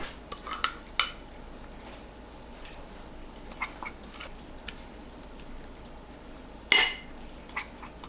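Clinks and scrapes of a pot and utensils as water and seasoning are added for braised tofu with radish, a few sharp knocks standing out over a steady low background hiss.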